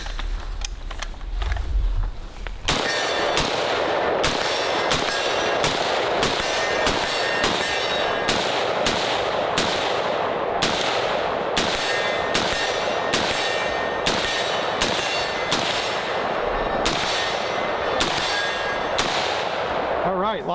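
Rapid series of loud, sharp gunshots from an AR-15 fitted with a 7.62x39 upper on an unaltered lower receiver, about fifteen evenly spaced reports over twenty seconds, close and dominant with no talk.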